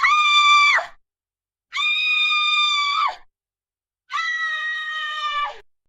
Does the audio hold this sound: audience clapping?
no